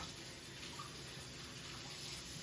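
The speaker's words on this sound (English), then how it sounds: "let me wash my hands" Tap water runs steadily while hands are washed in a kitchen sink, a faint, continuous hiss with no distinct splashes.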